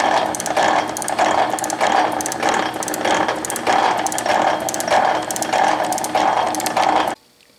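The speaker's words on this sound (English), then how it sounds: "Now we want that feed to advance as this ram comes back, like right now." Rhodes metal shaper running, its ram stroking back and forth while the ratchet feed clicks forward on each return, a loud, close, steady mechanical rhythm of about two cycles per second that stops abruptly at the end.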